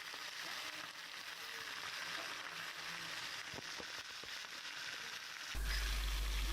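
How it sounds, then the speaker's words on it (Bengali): Marinated rohu fish frying in hot mustard oil, a steady hissing sizzle with a few small pops and crackles, close and fairly quiet, cut off abruptly near the end. "তেলটা যখন ভালোভাবে গরম হয়ে আসবে তখন মেখে রাখা মাছগুলো দিয়ে দিচ্ছি"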